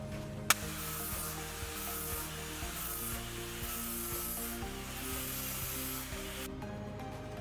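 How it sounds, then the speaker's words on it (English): Steady abrasive grinding on a steel weld seam of scrap-metal bookends, one sharp click at the start, then a continuous harsh rasp with pulsing hum, close and unbroken until it cuts off near the end. "Now that you got your bases welded, you want to take and grind that smooth."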